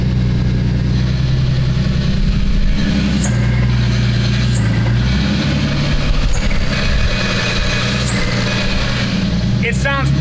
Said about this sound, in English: But once you put the clutch in,